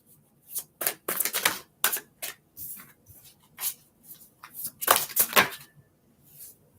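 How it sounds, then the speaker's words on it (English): A deck of tarot cards being shuffled in several quick riffling bursts, crisp and close, with short pauses between shuffles. "I do want to give it a couple good shuffles"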